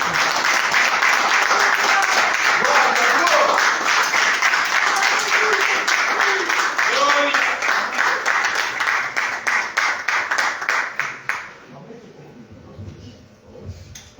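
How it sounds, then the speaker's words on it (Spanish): A church congregation applauds in dense, sustained clapping that fills the room loudly for about eleven seconds, then tapers off into scattered claps and quiet murmurs. "Um aplauso ao Senhor, queridos, em nome de Jesus."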